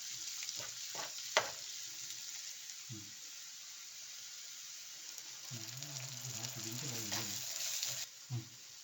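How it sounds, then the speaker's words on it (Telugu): Tomato puree mixed with chilli powder frying in oil as it is stirred, a steady sizzle broken by scraping spoon strokes and soft bubbling thuds for a Telugu cashew paneer curry. "మనం ముందుగా చేసి పెట్టుకున్న టొమాటో ప్యూరీ ఉంది కదా, ఆ ప్యూరీ వేసుకుని మిక్స్ చేసుకోవాలండి."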